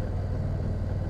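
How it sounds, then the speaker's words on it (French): The liquid-cooled engine of an Indian Challenger Limited motorcycle runs with a steady low rumble, close and continuous but fairly quiet. "Voilà au guidon de la Indian Challenger Limited."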